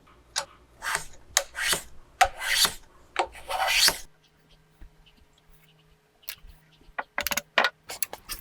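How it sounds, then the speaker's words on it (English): Hand tools tapering a wooden sliding dovetail joint: close, dry rasping strokes in a quick irregular series, a pause with faint low hum, then another short run of scraping strokes. "So I need to taper this even more."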